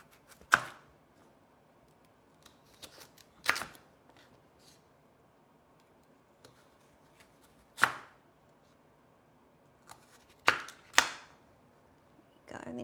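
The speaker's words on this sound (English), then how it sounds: "chop these pieces into halves." Knife chopping pieces for quinoa sushi hand rolls on a board, a handful of sharp, isolated thunks spaced a few seconds apart, fairly close, with quiet pauses between.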